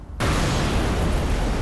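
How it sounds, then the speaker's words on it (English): Explosions in the video game Old Skies erupt suddenly after a brief quiet moment, then roar as a loud, continuous rumbling blast that fills the background. "Very well animated explosions in the background there"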